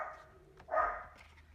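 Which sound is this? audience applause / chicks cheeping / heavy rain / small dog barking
small dog barking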